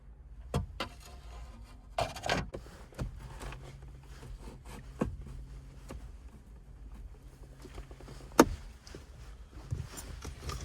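Flathead screwdriver prying plastic radio trim clips on a 2011–2013 Hyundai Elantra dashboard, with sharp scattered clicks, scrapes and rubbing sounds at irregular intervals, close up and fairly quiet.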